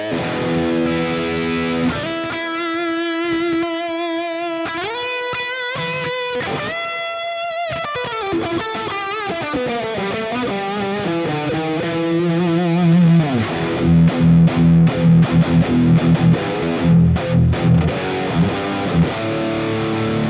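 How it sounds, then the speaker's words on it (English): A Fender Stratocaster electric guitar on the bridge pickup through overdrive with reverb, playing sustained distorted chords and single-note lines, then tight, chuggy palm-muted rhythmic strums toward the end. "So this is how it sounds like on the bridge."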